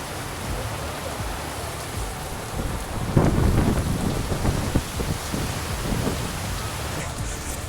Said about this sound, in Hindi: ये क्या बारिश हो रही है।